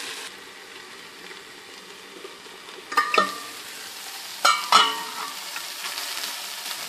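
Tomatoes with prawns sizzle steadily in a covered pan, a soft continuous frying hiss with two louder bursts of clattering and stirring partway through; no voices.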